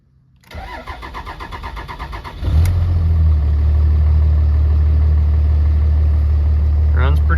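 A chilly engine with a grid heater cranks briefly, then catches and settles into a loud, steady low idle close by, running on without a pause.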